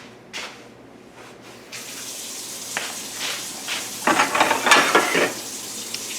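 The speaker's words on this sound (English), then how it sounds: "rinse off the spoon" Tap water rinsing a tablespoon in a kitchen sink, a gush of running water starting after a quiet moment and splashing in uneven bursts, louder near the end.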